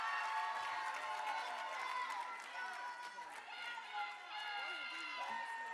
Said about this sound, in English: Give him a second while they clap.